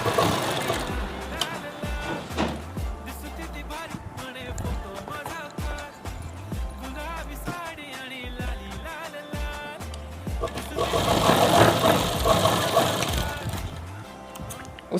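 A sewing machine stitches a salwar in rapid mechanical bursts, running close and fairly loud with short pauses between runs, while someone talks over it.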